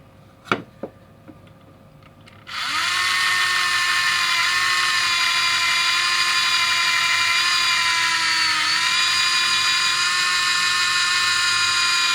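A Tamiya electric hand drill with a flat hole bit boring plastic whirs up suddenly after a few clicks and runs steadily at a high, even whine for nearly ten seconds, up close.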